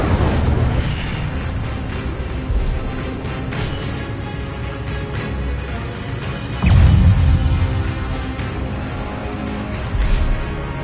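Incendio fire spells cast in a Harry Potter video game burst out as repeated whooshing blasts and booms, one heavier explosion standing out midway among continuous rumbling game effects.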